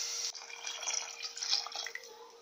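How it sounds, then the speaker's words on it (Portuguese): Water from two mugs is poured into a cooking pan on the stove, a close, continuous splashing hiss lasting about two seconds. "Agora eu vou botar duas canecas de água."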